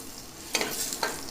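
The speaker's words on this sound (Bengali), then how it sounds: "তো দিয়ে এগুলোকে খুব ভালো করে একটু ভেজে নেব" Bay leaf and a dried red chili frying in hot oil, giving a soft steady sizzle with two brief sharp bursts of stirring partway through, close and fairly quiet.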